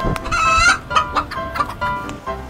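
A chicken clucks loudly and close by in a rapid series of sharp, squawking calls, alone without talk, as it is being chased.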